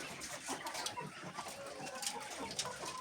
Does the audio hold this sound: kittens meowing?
no